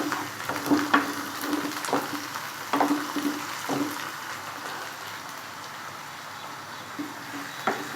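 Onions frying in a pan until golden for a keema masala, giving a steady close sizzle with soft crackles and occasional stirring scrapes, no voices.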